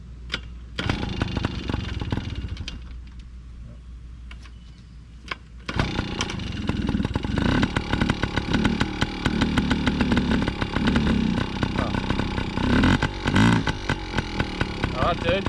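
A small petrol dirt bike engine starts up and runs with a buzzing, raspy drone that fluctuates with the throttle, while voices talk over it nearby.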